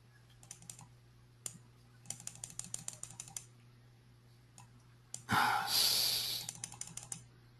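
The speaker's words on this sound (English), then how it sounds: "we've got to stop typing" Rapid clicking of computer keys comes in bursts, with a brief loud rush of broadband noise in the middle, over a steady low hum in a quiet room.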